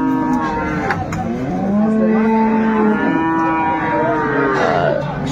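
Cows and calves at the Aftabganj cattle market in Dinajpur low loudly and almost continuously, with long drawn-out moos overlapping each other against a constant murmur of the market crowd.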